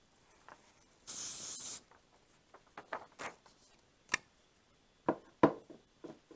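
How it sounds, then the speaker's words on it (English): A short burst of aerosol spray hisses steadily for about a second, followed by scattered light taps and rustles nearby. "We're going to use some Pro Spray."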